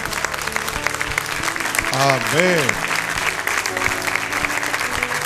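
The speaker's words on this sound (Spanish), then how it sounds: "Le damos un aplauso a él entonces." A church congregation applauding during a Spanish-language Sunday service, steady clapping throughout under a voice speaking and singing.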